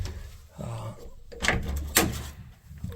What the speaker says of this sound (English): Open this door up